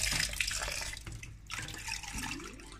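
Tap water runs steadily over sea moss set to soak for a Jamaican sea moss preparation, a continuous close splashing stream with small shifts in flow and no voices.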